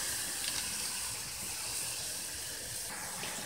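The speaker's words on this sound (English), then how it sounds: "Water's boiling, so add the rice." A steady, hissing bubble of water at a rolling boil in a pot, close by and continuous, with no talking.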